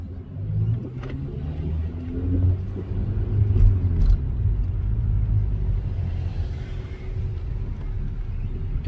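A 2019 Honda Civic Sport with its muffler deleted drones with a deep, steady exhaust rumble that swells slightly as it accelerates and stays loud and close throughout.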